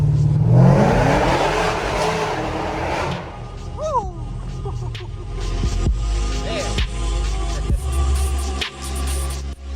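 Cadillac CTS-V accelerating hard under a bridge, a loud roaring engine pull that swells at first, then falls away into echoing rumble and passing traffic.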